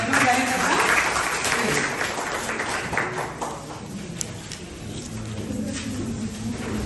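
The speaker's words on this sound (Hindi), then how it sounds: "मैं चाहती हूँ एक बार जोरदार तालियों से वेलकम करना।" Audience applause welcoming a speaker at a training and counselling workshop at a college in Rampur, a broad clatter of clapping that is strongest at the start, then thins and fades with voices mixed in.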